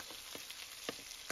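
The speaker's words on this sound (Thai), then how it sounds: "เพื่อไม่ให้พริกแกงมันติดกระทะนะครับเราค่อยคั่วนะครับ" Red curry paste sizzles and crackles steadily as it is stir-fried in a wok, with faint scraping taps from a spatula against the pan at irregular intervals.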